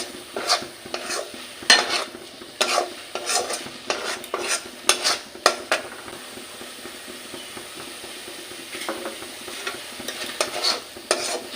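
A spoon scrapes and clacks against a pan while milk powder is stirred into a carrot sweet, with quick irregular strokes over a soft background sizzle, close and moderately loud, fading to lighter stirring later.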